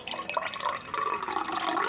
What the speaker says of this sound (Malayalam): ഇനി നമുക്ക് ഇതിലേക്ക് കുറച്ച് വെള്ളം ഒഴിച്ച് കൊടുക്കാം